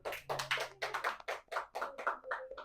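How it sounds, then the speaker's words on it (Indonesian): Students in an elementary school classroom giving a short round of applause for a group that presented, a quick series of rhythmic, fairly close hand claps with no talking. "tepuk tangan dulu kepada kelompok 1 yang telah berani maju ke depan"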